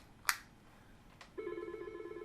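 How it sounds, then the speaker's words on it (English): After a quiet click and a faint tap, a telephone begins ringing with a steady electronic trill, fairly quiet and close. "this phone is ringing and it says panic"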